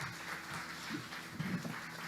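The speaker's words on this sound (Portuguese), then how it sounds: "Aplauda mais forte a Ele." A church congregation at a Sunday service applauds, making a steady, fairly faint wash of many hands clapping with a murmur of voices beneath.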